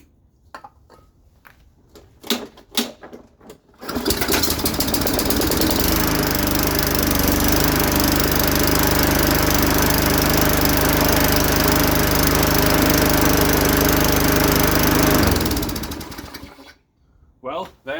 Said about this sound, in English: I want to see if it runs, so I'm going to spray some brake clean in the carburetor, and we're going to see if it pops off